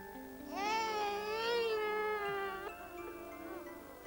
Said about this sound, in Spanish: Con el llanto, simplemente te está comunicando algo.